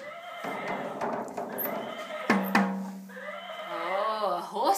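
A horse neighs and whinnies loudly and close, a long wavering call broken by snorts, ending in another rising whinny, with no talking over it.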